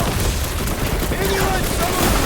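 Heavy weapon fire in the Guardians of the Galaxy action game, a dense continuous barrage of booming shots and mechanical clatter filling the scene from start to finish, with voices present underneath.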